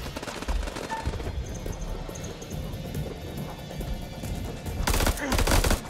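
Gunfire in the video game House of Ashes, a dense, continuous battle din of rapid shots and impacts with a louder burst near the end.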